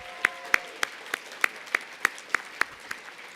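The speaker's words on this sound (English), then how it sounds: "One more round of applause, please" Sparse, evenly spaced hand claps ring out about three per second at a political plenary on worker power in Ohio, sounding like a few people clapping in a hall rather than a full crowd.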